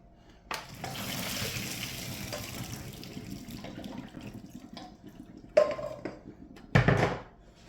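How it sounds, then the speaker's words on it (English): Hot water is dumped out of a pot of boiled potatoes into a kitchen sink. A rushing pour splashes for a few seconds and tapers off, followed by a couple of sharp metallic clanks of the pot. "I'll just go run over here to dump the water out"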